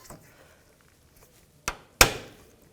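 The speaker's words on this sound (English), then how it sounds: "Take this cotter pin off. Just bend it back a little bit. And just pry it out." Side cutters prying a cotter pin out of an idler arm on a 2000-06 Chevy Tahoe, two sharp metallic snaps close up after a faint tap, with no voice.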